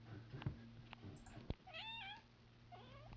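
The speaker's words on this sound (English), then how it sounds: "Oh, there's a kitty." Cat meowing in a couple of short, rising-and-falling calls, faint and somewhat distant, with small knocks and a low steady hum in the background.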